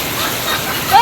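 Heavy rain pours down in a steady, dense hiss that fills the whole moment, with a slight swell at the very end.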